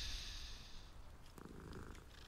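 A cat purrs softly in Hogwarts Legacy, a low continuous rumble under faint background ambience.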